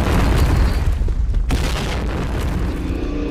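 A heavy, loud bomb explosion in the shooter game Point Blank, a deep rumbling boom that fills the whole clip with a sharp secondary blast midway, no speech.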